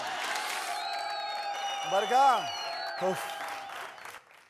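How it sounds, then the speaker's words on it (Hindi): An audience applauds and cheers on a comedy show stage to welcome a performer. The clapping is steady, moderately loud and continuous, with a voice speaking over it and a brief vocal burst in the middle. "जोरदार तालियों के साथ स्वागत कीजिए"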